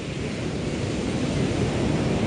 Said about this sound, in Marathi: भयंकर मोठी लाटीली समुद्र लय खवाळलेलो हा